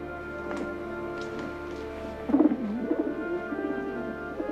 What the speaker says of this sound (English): A pigeon.